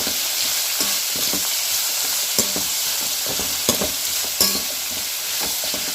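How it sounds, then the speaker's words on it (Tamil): Onions sizzle and fry in a pan for puri masala, a steady crackling hiss with occasional sharp clicks and scrapes as they are stirred, close and continuous without talk. "வெங்காயம் சேர்த்து இதையும் வதக்கிக்கிறோம் நல்லா."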